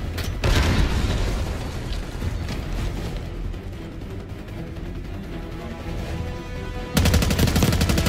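Grenade exploding in Call of Duty: Black Ops 6, a loud close boom at the start and another sharp blast near the end, with a rumbling mix of gunfire and mechanical clatter between them.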